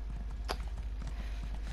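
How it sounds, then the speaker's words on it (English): Horse hooves clip-clop at a steady, slightly slow walking pace in The Elder Scrolls Online, the repeated footfalls close and even under a low ambient game hum with no speech. "definitely need to upgrade speed of this horse"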